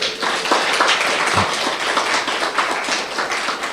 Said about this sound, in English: let's give a round of applause to our presenter.